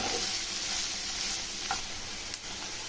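Ginger-garlic paste, turmeric and salt stirred in hot oil in a pot for kuska pulao, a steady sizzle with a couple of sharp spoon scrapes against the pot.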